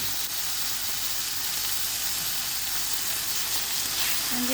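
Skinless chicken frying in a pan, a loud, dense, continuous sizzle that stays steady throughout, close up and with no talking.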